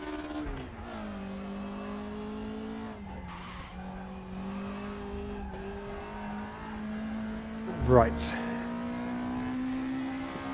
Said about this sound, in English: Now we get to enjoy the wonderful noise that this thing makes